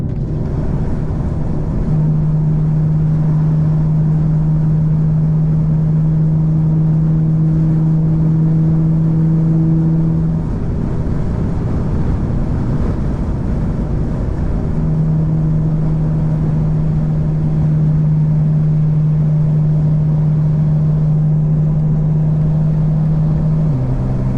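A 2024 BMW M4 Competition xDrive cruising on a night highway with the windows down and exhaust valves open, its engine holding a steady loud drone that dips briefly midway before resuming, with wind rush throughout.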